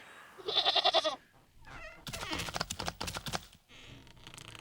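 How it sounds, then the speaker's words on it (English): A goat bleats once in the Wytchwood video game, a short wavering cry that pulses in quick beats, followed by a pause and then a person talking. "Her sleep is interrupted by an odd little noise. Sound of a goat."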